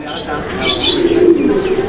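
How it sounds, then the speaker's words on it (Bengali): Chila pigeons coo in a low, steady murmur near at hand, with faint chirps and rustling mixed in above, continuing without a break. "আরো এক জোড়া কবুতরের কালেকশন রয়েছে, এন্ড এটা হচ্ছে চিলা কবুতর"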